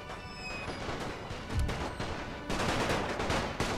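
Battlefield gunfire in the game The Great War on the Serbian front, dense crackling volleys and rattling shots blending into a continuous loud roar, with a heavier burst near the end.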